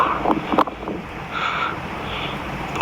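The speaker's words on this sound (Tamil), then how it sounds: "செம்ம காற்று அப்படியே கூலிங்காக அடிக்குதுங்க." Strong, cool wind while riding at high altitude in Ladakh, a steady rushing roar buffeting the microphone with brief gusts and bumps. No voices.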